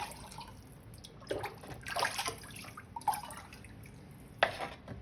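Glaze poured inside a pottery piece, irregular splashes and liquid pours in short bursts against a quiet background, fairly close and moderately soft.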